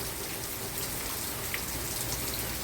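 Steady rain falls on a home vegetable garden where onions are being harvested, a dense, even hiss of drops with no voices, constant and close throughout.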